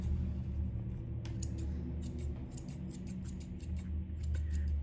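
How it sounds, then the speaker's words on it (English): Grooming scissors snip through a dog's fur in quick repeated clusters of crisp metallic cuts, close and fairly clear over a steady low background hum. "we'll pick it up and just trim it round a bit"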